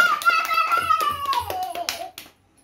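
Scattered hand claps at a family cake cutting for a father, a few sharp close claps mixed with children's voices and a sliding tone, fading out toward the end.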